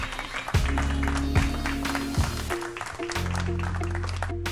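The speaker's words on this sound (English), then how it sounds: "Let's give him a round of applause, everybody." Crowd applause for pool player Dennis Orcollo at the 2015 U.S. Open 8-Ball Championship, a continuous patter of clapping beneath prominent music with sustained low chords, steady from start to finish.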